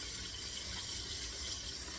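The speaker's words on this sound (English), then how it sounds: "Let me wash this off my hands real quick." Hands being rinsed under running tap water, a faint, steady stream splashing into a sink without pause or speech.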